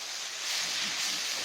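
Ivy gourd with tomato and salt sautés in a pan, giving a steady, soft, close hiss over a short stretch with no voices.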